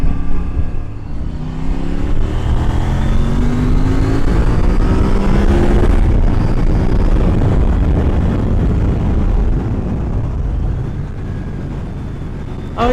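KOVE 800X adventure motorcycle accelerating up to road speed, a steady engine drone rising under heavy wind rush at the helmet, loud and continuous.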